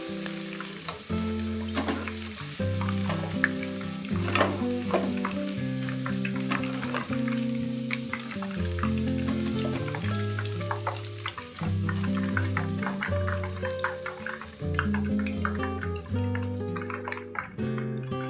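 Chicken for kung pao frying in hot oil, a steady crackling sizzle with sharp pops and spatters throughout, close up and fairly loud, no one talking.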